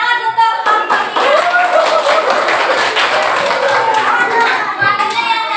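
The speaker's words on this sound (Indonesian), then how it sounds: "Tepuk tangan untuk kelompok ini." Schoolchildren clapping for a student group in an Indonesian classroom, a dense, continuous round of close applause lasting several seconds.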